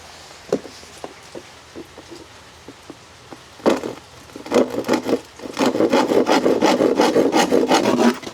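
Hand sawing through wood, starting with slow, scattered strokes and building into fast, steady back-and-forth rasping, close by.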